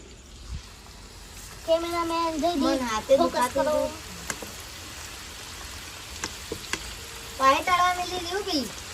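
Food frying in oil keeps up a steady background sizzle, while voices talk over it in two separate stretches.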